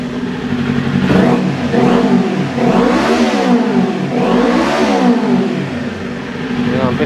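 A 2022 Kawasaki Ninja 400 fitted with an SC Project slip-on exhaust revving hard several times, engine pitch rising and falling in repeated swells, close and loud.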